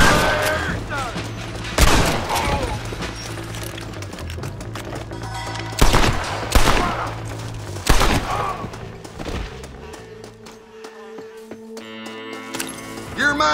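Gunshots in the Western game Red Dead Redemption ring out as several loud, separate cracks spread across the scene, with shouting voices and background score in between.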